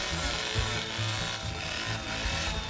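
Chainsaw in The Texas Chain Saw Massacre video game, a steady loud buzzing drone with rough pulsing low throbs, running continuously without talk.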